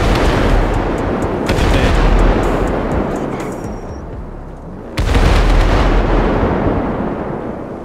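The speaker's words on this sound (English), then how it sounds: "Ain't nothing like a good old fireworks show." A fireworks show in the video game GTA 5 seen from the highway, with deep booming bursts and crackling pops rolling in loud waves, one sharp blast striking about halfway through.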